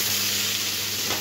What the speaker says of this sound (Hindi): 5 मिनट हो गए मैं चिकन को भूनते हुए